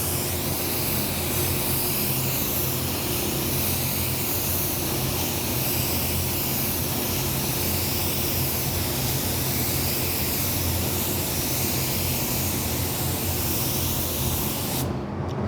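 A spray gun lays down a second coat of Createx AutoBorne sealer in a long, loud, steady hiss that runs unbroken for about fifteen seconds before cutting off at the end.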